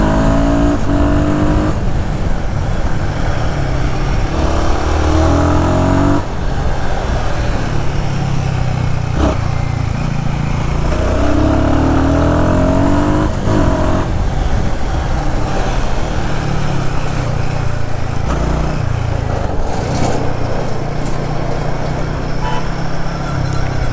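A Royal Enfield Guerrilla Apex 450 motorcycle rides down a road, its engine droning loudly throughout with repeated rising revs as the rider accelerates and shifts, plus steady wind rush.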